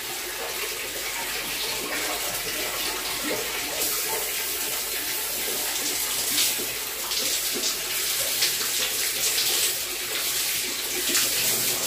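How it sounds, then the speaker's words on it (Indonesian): Water runs from five taps at once in a steady, loud, continuous gush with a broad hiss and splash that builds slightly over time, without speech. "saya mau menyalakan 5 kran sekaligus"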